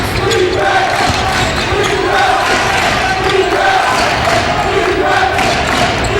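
Basketball crowd in a packed arena at a college game, a loud steady roar of spectators that swells without pause, with faint bounces and shouts under it.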